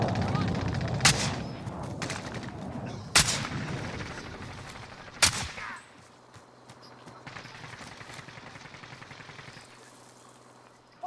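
Video game firefight with several sharp gunshots in the first half over steady battle noise. The noise thins out after about six seconds to a quiet background, and muffled voices sit low in the mix.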